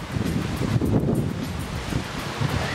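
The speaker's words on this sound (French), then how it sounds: "tu peux entendre le vent, énormément." Strong wind gusting across the port at Gruissan, a steady, loud buffeting roar that batters the microphone throughout, with no voices.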